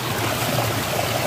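Hot water flows steadily from an outlet at an ashram, a continuous close stream with a broad, even rushing texture and no talk over it.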